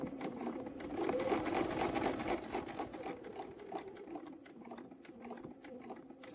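A quilting sewing machine stitches a feather arrow quilt panel along a ruler in a rapid, even mechanical chatter. It is louder early on, then eases into lighter bursts of stitching, close and without talk.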